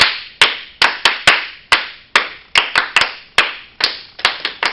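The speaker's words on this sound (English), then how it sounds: "we're just going to clap 5 times" Sharp, loud claps from a group ring out in an irregular string of five, some spaced apart and others bunched close together, with no talking.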